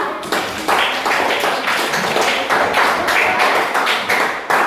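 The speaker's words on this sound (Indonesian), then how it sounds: "Tepuk tangan untuk kelompok 2." Classroom group applauding a second group's presentation: a dense, steady patter of many hands clapping throughout, close and fairly loud, with no talk over it.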